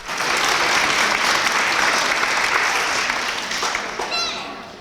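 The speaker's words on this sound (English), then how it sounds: "let's give those kids a round of applause." A school awards assembly crowd claps for a group of third graders with steady, dense applause that fills the room, then gradually thins and fades near the end.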